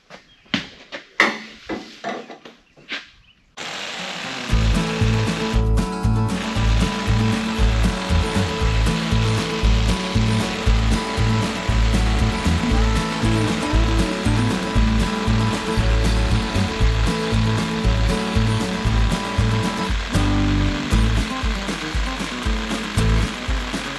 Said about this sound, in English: Got this high quality Chicago electric hammer drill.